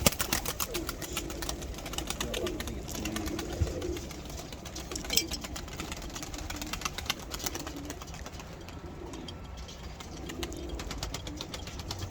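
Tumbler pigeons in a flight loft coo low and steady, with a few sharp flaps of wings and rustling, under a faint background hum and occasional distant voices.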